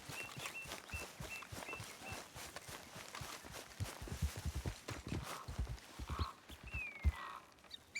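In the video game Red Dead Redemption 2, a horse's hooves clip-clop in a steady walking rhythm at moderate distance, with faint birdsong and scattered whistles over the footfalls.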